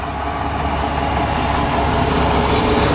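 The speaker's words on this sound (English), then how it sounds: "Now we'll go ahead and start the engine." A 2010 Jeep Commander Limited with the 5.7 engine idles steadily up close, a continuous low rumble and hum with no voices over it.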